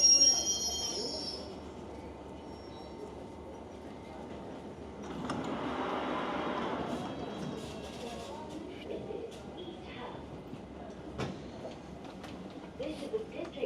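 A London Underground District Line train runs along with a steady rumble, and a brief rise of wheel squeal appears midway. Faint background sounds come and go.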